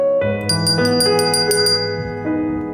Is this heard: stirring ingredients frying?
no